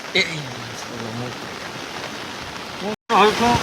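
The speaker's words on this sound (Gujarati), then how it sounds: "વરસાદ પડ્યો ધોધમાર ને આજ સવારથી ચાલુ છે" Heavy monsoon downpour in a Gir village, Gujarat, India, pouring in a constant dense hiss, with voices talking over it near the start and end.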